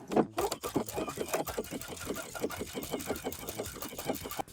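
A sewing machine runs a 2.5-length straight stitch, joining knit to woven fabric under a walking (dual feed) foot. Close, rapid, steady mechanical stitching continues throughout with no voices.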